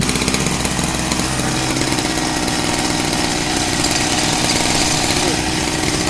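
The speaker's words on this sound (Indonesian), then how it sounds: "sangat mudah sekali untuk ngidupin mesin ini" A small outboard engine fitted to a kayak runs loudly and continuously, with a steady buzzing, rattling drone and no pauses.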